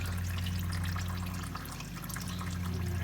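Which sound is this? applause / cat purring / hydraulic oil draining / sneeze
hydraulic oil draining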